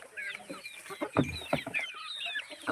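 Free-range village hens and chicks on a poultry farm cluck and chatter in short, uneven bursts, fairly close, with high cheeping from the young birds threaded between the clucks and no talking.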